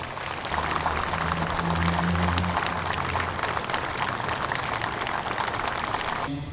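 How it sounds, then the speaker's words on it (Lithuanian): Sustained applause from a crowd at a Lithuanian Armed Forces change-of-command ceremony as a lieutenant general leaves the parade ground, steady and dense throughout, with a low band-music tone underneath early on. "Palydėkime į plojimais."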